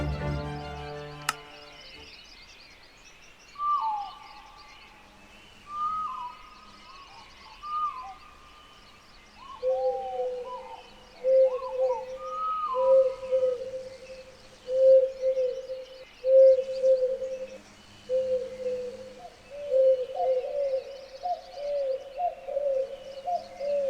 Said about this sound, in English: Birds called somewhere beyond the branches.